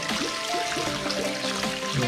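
Tap water runs steadily while freshly used saltwater fishing lures and a 20-gram jig are rinsed by hand, a continuous close splashing stream with no talk over it.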